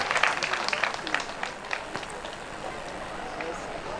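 Applause at an inauguration ceremony for boreholes and a public latrine in Klologo, Togo: a burst of clapping, loudest in the first second, thinning into scattered claps and crowd murmur over open-air background noise.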